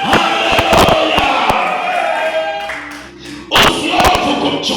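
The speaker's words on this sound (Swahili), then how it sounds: "Piga Yesu makofi." A church congregation claps during a sermon, with sharp clustered claps and thuds rising over a loud, echoing room alongside shouts and sustained tones. The clapping eases briefly and then bursts back in strongly.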